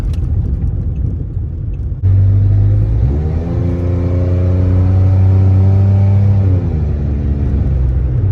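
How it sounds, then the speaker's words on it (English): A loud car exhaust drones from inside a moving vehicle, rising in a rev to a steady, throbbing low rumble before easing off. "The exhaust is kind of loud."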